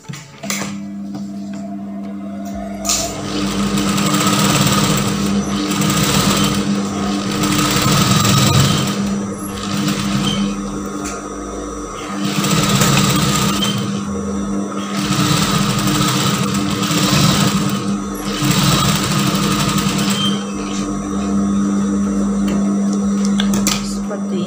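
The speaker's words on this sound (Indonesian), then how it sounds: "Jahitan stikan besar, dan ini nanti kita tarik supaya mengkerut" A sewing machine runs long basting stitches along a garment sleeve in several steady bursts of rapid mechanical whirring and clatter, with brief pauses between runs, while someone speaks over it.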